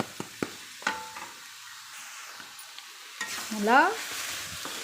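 Boiled, drained moringa leaves stir-fried for poriyal in a pan, giving scattered soft scraping knocks early on, then a louder, steady sizzle and stirring clatter that swells near the end, with a brief word spoken.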